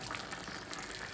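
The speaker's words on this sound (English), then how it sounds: "now what we will do is we'll put water." Water pouring steadily into a cooking pot holding smoked lamb shanks for Yemeni soup, a continuous soft gushing splash heard alone and fairly quiet.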